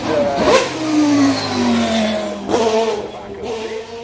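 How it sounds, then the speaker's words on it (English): The 1990 Williams Renault Formula One car, a normally aspirated engine, revs loudly and close by, rising and falling in pitch through several sharp throttle blips with a crowd murmur underneath. "This is the 1990 Williams Renault ex-Thierry Boutsen car"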